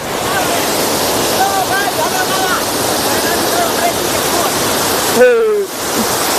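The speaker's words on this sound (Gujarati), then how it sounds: "બાકી તો જો આ કેવો ધોધ પડે મસ્ત." Water thunders in a continuous roar as a waterfall pours over the Kareda dam overflow, loud and close and filling the whole scene, with a brief voice breaking in near the end.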